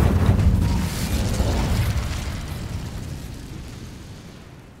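A fiery Incendio spell bursts in Hogwarts Legacy, a loud rushing whoosh and roar that starts strong and slowly fades over several seconds, heard alone.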